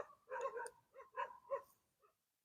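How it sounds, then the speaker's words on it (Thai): Several short barks from dogs outdoors in a rural Thai yard where moringa is being gathered, coming in a loose burst of four or five moderately loud yaps with brief gaps between them. "หมาเห่า"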